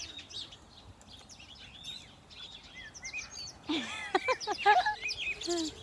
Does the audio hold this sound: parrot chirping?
yes